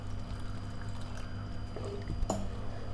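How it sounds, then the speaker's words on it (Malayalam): Water poured into a bitter gourd theeyal curry in a home kitchen, a short close splash of liquid near the end over a steady low background hum. "കുറച്ച് വെള്ളം കൂടെ അതിലോട്ട് ചേർക്കാം."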